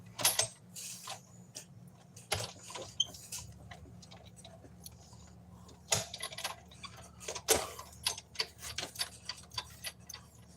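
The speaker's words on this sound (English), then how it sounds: "I'm going to push that in a little further on the die cut machine so we get this done a little quicker" A die cut machine runs with a steady stream of ticking, clicking mechanical sounds and irregular gear-like clacks, close and moderately quiet, continuing for about ten seconds.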